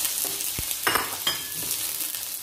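Onion goes into a pan of coconut cream for ginataang ampalaya at sitaw, producing a close, steady sizzle with a few stirring scrapes and soft taps.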